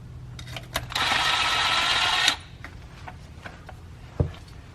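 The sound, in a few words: socket wrench removing a 13 mm nut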